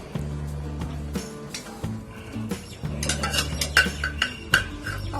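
A child playing in a home kitchen, clattering and stirring pots, pans and metal utensils, with irregular clinks and scrapes over a steady background hum, louder bursts in the second half.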